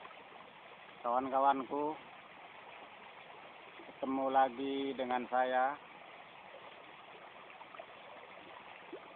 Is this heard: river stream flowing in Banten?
yes